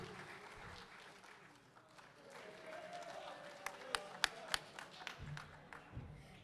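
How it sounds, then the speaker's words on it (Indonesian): Audience at an inauguration ceremony for a regional sports organization applauding, a soft, steady patter of many hands with a few sharper claps standing out near the middle, mixed with some background talk. "Berikan tepuk tangan yang paling meriah."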